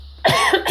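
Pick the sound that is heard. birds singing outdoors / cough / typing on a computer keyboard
cough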